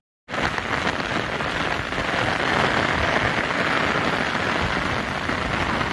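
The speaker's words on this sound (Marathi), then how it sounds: "खूप जोरात पाऊस चालू झालेला आहे।" Heavy monsoon rain pours down at Korigad fort near Lonavala and drums on an umbrella overhead in a loud, dense, steady roar that starts abruptly and continues without a break, with no voices.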